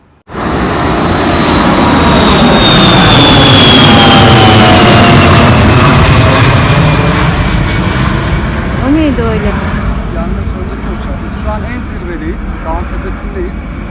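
A low-flying airplane roars loudly overhead near a forest fire in wooded mountains, its engine swelling quickly to a sustained drone that slowly fades away, with faint voices near the end.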